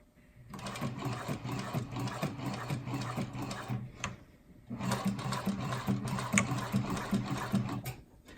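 A sewing machine stitching through adjustable material, with a fast steady mechanical whirr close by, a short stop near the middle, then another run of stitching.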